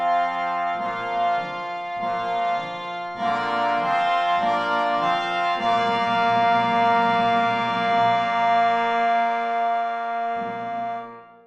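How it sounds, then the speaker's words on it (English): Romantic symphony passage for orchestral brass and timpani, with horns, trumpets and trombones sounding sustained full chords over drum strokes on the tonic and dominant, loud and steady before fading at the end. "The brass and drums sound like this."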